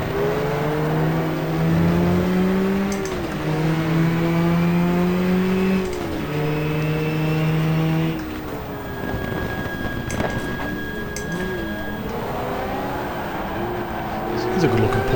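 A race car pulls out of the pits in the GTR2 racing game at Suzuka during a 4-hour race, its engine whining loudly and shifting up through the gears. Then it drops to a steadier drone, with a constant high tone running above it.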